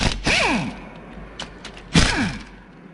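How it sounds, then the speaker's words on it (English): Metal parts of a Cat engine's gear-type oil pump are handled during teardown, giving two loud scraping, grinding bursts with a few light clicks between them, close up and without speech. "we can also take our oil pump apart and take a look at it"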